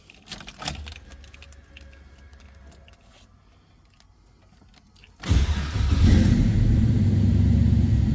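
A 1978 Chevrolet El Camino restomod with an LS2 V8, keys jangling and the starter clicking before the engine catches and settles into a loud, steady, deep idle.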